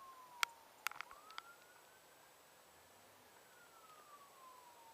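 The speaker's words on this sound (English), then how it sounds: "I hear police sirens." Police siren wailing far off, a faint tone sliding slowly up and down across the whole stretch, with a few sharp clicks and taps close by near the start.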